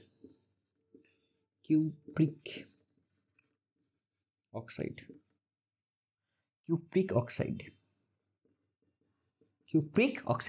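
A pen scratches across paper in short bursts with quiet pauses between, fairly close and soft, as chemical formulas are jotted down during a chemistry lecture.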